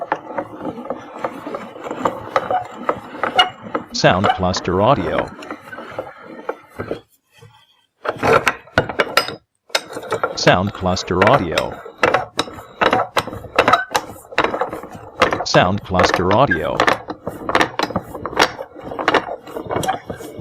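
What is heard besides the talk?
carpenter's vice being operated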